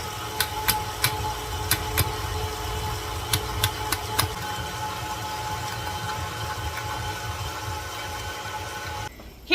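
A KitchenAid grain mill grinds wheat in a home kitchen, giving a steady mechanical drone with several sharp periodic clicks early on, ending abruptly near the close.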